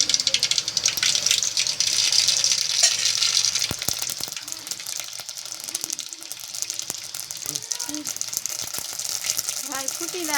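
Mustard seeds sizzle in hot oil at the start of a Gujarati dish, a dense close hiss that is loudest early and then thins, scattered with crackles and clicks while a voice speaks faintly in the background.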